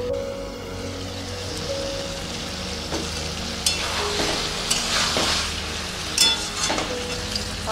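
Koi fish cooked with yogurt sautés in a pan, a steady close sizzle with intermittent stirring scrapes and clinks that grow busier toward the end.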